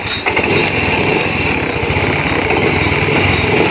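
Fuel-injected motorcycle engine kickstarted with no battery, running loud and close with a steady, buzzing idle throughout and no talking.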